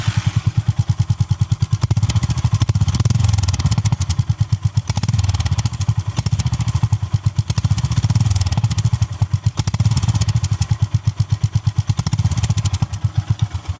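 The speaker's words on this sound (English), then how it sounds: "This is the exhaust of a 350cc engine. Sounds like a real big motorcycle." A Honda GB350 S motorcycle's 350cc exhaust thumps in a rapid, steady rhythm, loud and close, with the engine note swelling and easing in waves as it revs.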